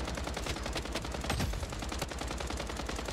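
A heavy-recoil gun in Bloodstrike fires a continuous rapid stream of shots, steady and fairly loud throughout with no talking.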